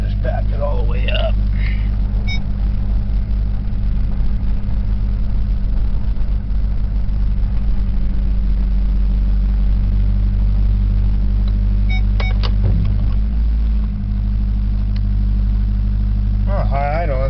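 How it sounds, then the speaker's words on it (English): Green truck's engine idling high after a cold start, a loud, steady low rumble running throughout with a slight dip in pitch near the end, while people talk over it. "That's not idling as high as it was when I first started it up"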